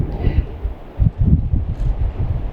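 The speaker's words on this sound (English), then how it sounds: "Oh God, the wind is crazy." Strong wind buffets the microphone in heavy, uneven gusts, producing a loud low rumbling roar throughout.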